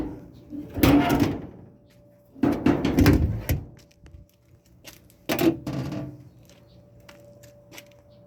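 The top panel of an older Kenmore clothes dryer slides off, giving a few rough metallic scraping slides and a clunk, close by, with someone talking between the sounds.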